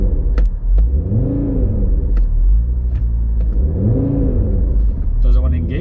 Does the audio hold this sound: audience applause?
no